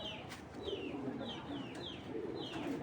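A pair of small black Budapest pigeons coos softly in low, repeated murmuring phrases, with faint higher chirps scattered over a steady background hum.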